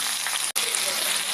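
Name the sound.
onion frying with mustard seeds and curry leaves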